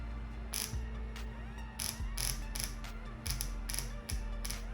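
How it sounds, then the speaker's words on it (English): A Toyota 2JZ-GE VVT-i oil control solenoid, switched on 12 volts from an old computer power supply, clicks sharply several times in an irregular rhythm, each actuation a crisp mechanical snap heard close and alone. "So the solenoid's reacting to 12 volts, so that's good."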